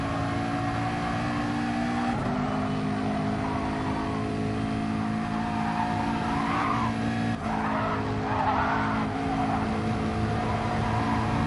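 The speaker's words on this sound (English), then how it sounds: "defend or overtaking on JMML's part from Gran Turismo Mexico in order to overtake Supra" GT3 race cars in a Gran Turismo esports race battle for position, engines droning steadily at high revs with tires squealing and skidding through corners, loud and continuous with no talk.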